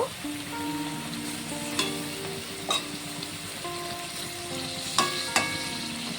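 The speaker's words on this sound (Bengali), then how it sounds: "লোটে মাছটিকে ওপর থেকে দিয়ে দেব। এটা কিন্তু কাঁচা মাছের চচ্চড়ি, কাঁচা লোটে মাছের চচ্চড়ি।" Raw lote fish with aubergine and potato frying in a pan for a chorchori, a soft continuous sizzle with occasional sharper crackles and spoon clinks, close and alone.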